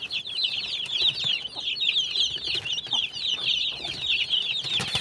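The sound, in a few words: chickens clucking, native and fancy breeds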